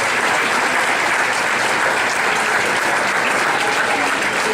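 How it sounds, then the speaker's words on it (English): A banquet audience applauding, dense sustained clapping from a large room that stays loud and even throughout. "let's have a big round of applause for the Athletic Backers Club"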